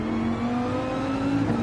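A racing car engine in Gran Turismo 7 holds a loud, steady high drone at constant revs, close and continuous, with no voices over it.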